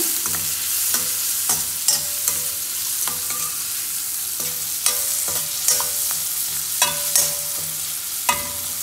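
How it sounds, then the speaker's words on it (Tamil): Onion, green chili and curry leaves sautéing in a hot pan for a drumstick-leaf egg stir-fry, with a steady sizzle and repeated sharp scrapes of a spoon stirring against the pan. "இப்போ நான் வந்து வெங்காயம் மிளகா கருவேப்பிலை எல்லாத்தையுமே ஆட் பண்ண போகிறேன் நல்லா வதக்கி விடுங்க"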